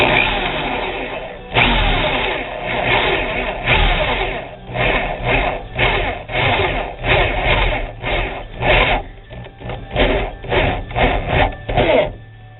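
A power drill bores a hole during an overhead installation, its motor revving in a run of loud, close bursts that start and stop in an uneven rhythm, with no talking.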